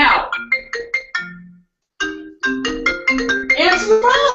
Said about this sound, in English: JR, your mom is calling. Please answer the phone.